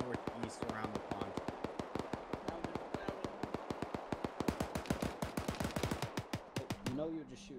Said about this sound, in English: You know you're just shooting that statue